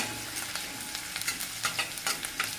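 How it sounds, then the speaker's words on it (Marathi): Green chili pieces fry in a pan for a fenugreek leaf (methi) bhaji, a steady close sizzle with crackling pops and the occasional scrape of stirring. "याला थोडीशी मिरचीला आपल्याला फ्राय करून घ्यायचं"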